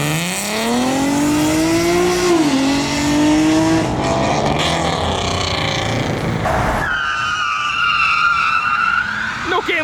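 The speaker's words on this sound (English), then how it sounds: "That busted ass Mustang doing a burnout." A beat-up Ford Mustang does a burnout at a car meet, its engine screaming and rising in pitch while tires squeal, loud and close, then a sharp shift to a higher revving whine near the end.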